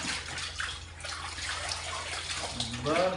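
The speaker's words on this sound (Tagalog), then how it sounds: "Unahin po natin yung mga puti na labahin na banlawan, mga puti." Running water splashes steadily as white laundry is rinsed by hand, a close, continuous gush with sloshing, and a voice speaks briefly over it near the end.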